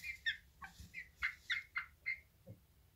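Bantam silkie chickens give a run of short, high, squawky clucks and calls close by, roughly a dozen in quick uneven succession.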